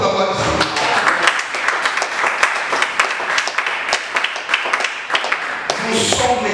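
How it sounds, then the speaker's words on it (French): Church congregation clapping and applauding during a French-language sermon on the tabernacle, dense overlapping claps sustained across the whole stretch, loud and near with no voice on top. "Acclamons pour la voix de Dieu."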